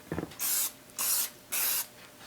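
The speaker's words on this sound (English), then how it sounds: "So I got my butter cooking spray." A close aerosol can of butter cooking spray sprays onto a baking dish in three even bursts, each a loud hiss lasting about a third of a second, separated by short pauses after a small click.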